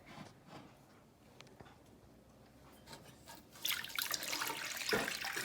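Water poured into a large pan of sugar for Indian-style halwa, a quiet trickle at first that swells into a louder, splashing pour near the end, close by and with no voices.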